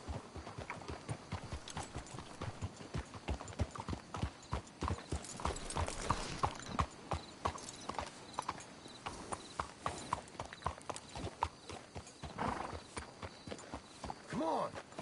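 Horses clip-clop along at a steady walking pace in Red Dead Redemption 2, their hooves loud and close throughout, with people talking over the hoofbeats and a brief whinny-like sound.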